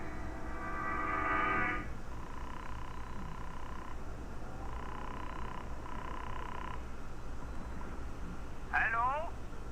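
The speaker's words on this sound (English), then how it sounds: "I looked up the number of a local chemist and I made a phone call." A telephone line heard at a steady level: a dial tone gives way to a series of evenly spaced electronic ringing or dialing tones with pauses between them, followed by a brief chirpy burst at the end.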